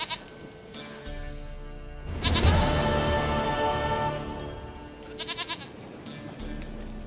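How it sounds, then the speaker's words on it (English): A goat bleats in the Witcher 3 video game, a loud wavering cry in the middle, followed by a shorter quivering bleat near the end over low background ambience. "Goat of mine! Dearest, sweetest goat!"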